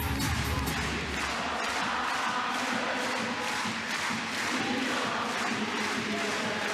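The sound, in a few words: handball arena crowd cheering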